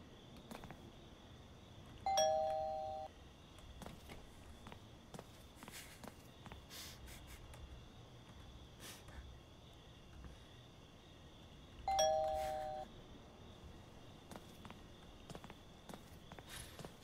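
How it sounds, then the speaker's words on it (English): Doorbell chime rings twice, about ten seconds apart, in the Thief Simulator video game, each a clear two-tone ding-dong over quiet background ambience with faint footsteps. "Ring the doorbell."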